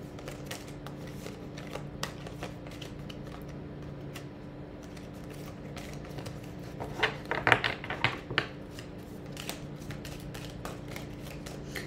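Astrology cards are shuffled by hand in a quiet room, a long run of soft rapid riffles and slides with a brief livelier burst of flicking and tapping partway through.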